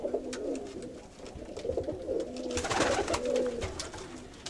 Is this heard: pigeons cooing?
yes